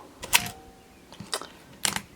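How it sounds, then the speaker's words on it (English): Three separate mechanical clicks from a Pentax MX 35mm film SLR shutter spaced over two seconds, each a sharp snap with a short rattling tail, close by and alone in a quiet room. "shutter stays open as long as I hold the button down"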